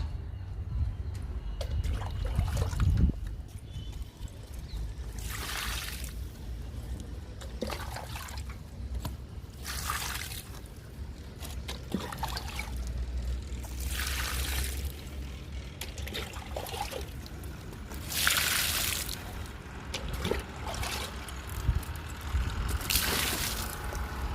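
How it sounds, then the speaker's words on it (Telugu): Vegetable garden plants such as okra, brinjal, gongura and tomato being watered outdoors on a hot summer day, with intermittent bursts of splashing and trickling water spaced a few seconds apart over steady background noise. "అన్నిటికీ వాటర్ ఇచ్చేద్దాము"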